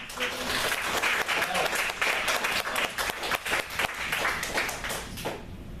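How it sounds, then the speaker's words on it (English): An audience at a public speaking event gives a round of applause to thank the opening hosts, dense and sustained for several seconds with some crowd voices underneath before it fades at the end. "Let's have one more round of applause for Nathan, Melvin, and the rest of Wells Fargo for opening up."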